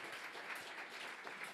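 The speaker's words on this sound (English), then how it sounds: "Give a round of applause." An audience claps after an evening talk by two authors, a soft, distant wash of applause that holds evenly through a brief moment.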